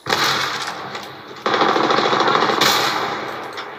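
Automatic gunfire from a weapon in the Apex Legends video game, loud sustained rapid bursts with a harsher second burst midway, heard alone without voices.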